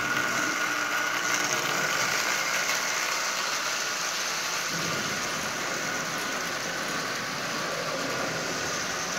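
A Marx Doodlebug toy train with a micro motor runs steadily pulling a string of Lionel cars, giving a continuous, fairly loud whirring hum with rattling wheels that stays even throughout, with no talking.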